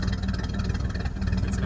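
A Winnebago F-17 with a newly fitted exhaust and muffler idles close by, a steady, rough low rumble with an even throb and no talking.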